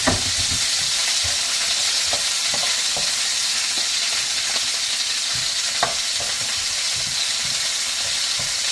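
Onions sautéing in rendered chicken fat in a pan give a loud, continuous close sizzle and hiss, punctuated by irregular scraping stirs of a utensil against the pan, with no voices.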